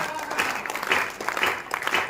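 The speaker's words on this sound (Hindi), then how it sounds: "एक बार आप अपने लिए तालियां बजाएं।" An audience at a Hindu devotional poetry gathering bursts into applause, a dense swelling clatter of many hands in waves, with some voices under it.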